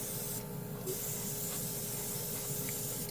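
An airbrush laying down paint, driven by a cheap portable air compressor, gives a steady, close, continuous hiss of spraying air that barely changes through its length, with a faint motor hum beneath.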